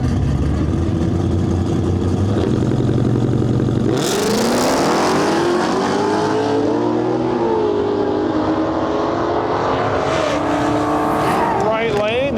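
Dodge Demon Red Eye and a third-generation Camaro launching in a drag race on a sketchy track surface, engines roaring loudly with a sharp surge in power and rising revs partway through, a commentator talking over the racket.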